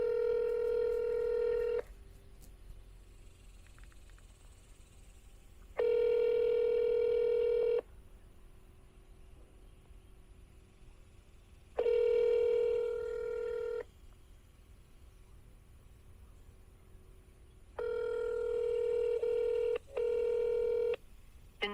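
Touch-tone telephone keypad dialing a number to place a call, with bursts of dual-tone beeps in four separate groups spread over about twenty seconds, quiet gaps between them, clear and close.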